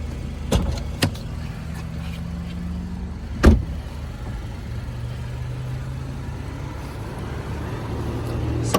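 On a 2012 Mercedes-Benz SLK250, the retractable hardtop's motor runs with a very quiet, low whir, marked by a couple of sharp mechanical clicks early on and a single louder clunk partway through.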